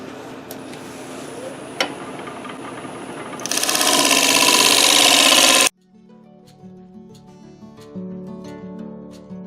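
A wood lathe spins a catalpa live-edge bowl as a scraper meets the wood, a steady machine drone swelling into a loud, rough scraping burst for about two seconds before stopping abruptly, followed by faint ringing and light knocks.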